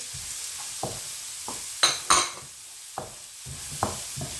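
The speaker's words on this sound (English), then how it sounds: "now I'm gonna add the onion. Half cup onion and half cup chopped sweet chili" Onion and chopped sweet chili stirred in a frying pan, a quiet background sizzle broken by a handful of close scrapes and taps, two sharper bursts in the middle.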